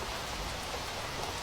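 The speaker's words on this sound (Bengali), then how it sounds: "কেমন ঝড় বৃষ্টি শুরু হয়েছে?" Heavy storm rain pours down in a dense, constant hiss of drops hitting surfaces, close and loud, with no voices.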